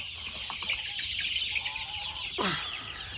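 Chickens cluck and chatter in a poultry shed, several birds close by with a busy run of short calls and one louder rising squawk near the end, no talk.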